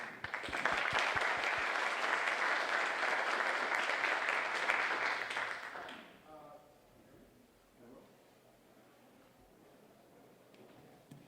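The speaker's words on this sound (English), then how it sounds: "An applause." Conference audience applauding for a speaker introduced at a scientific Python talk, a few sharp claps building into steady clapping that fades out after about six seconds, followed by quiet room sounds.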